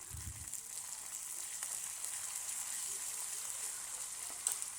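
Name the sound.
tempering pepper, cumin, ginger, chillies and curry leaves in oil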